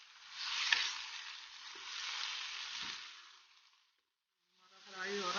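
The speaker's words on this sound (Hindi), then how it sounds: "चिकन को हम अच्छी तरह फ्राई करेंगे। चिकन का कलर ब्राउन होने तक हम इसको फ्राई करेंगे।" Chicken fries in a pot for pilau until browned, a continuous hissing sizzle with a few soft knocks, briefly dropping out before the sizzle resumes.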